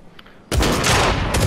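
Automatic gunfire in an online shooter video game, a loud sustained burst erupting suddenly after a quiet moment and continuing to the end.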